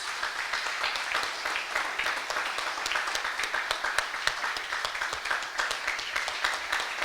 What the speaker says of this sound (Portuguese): Nós poderíamos aplaudir ao Senhor Jesus